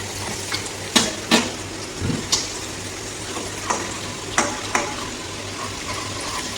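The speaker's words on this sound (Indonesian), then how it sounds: "Selanjutnya kita akan memasukkan bawang putih, bawang merah, kita tumis dulu sampai wangi" Garlic and shallots stirred in hot oil in a pan, a soft continuous sizzle with several sharp clatters of a utensil scraping and tapping the pan at irregular intervals.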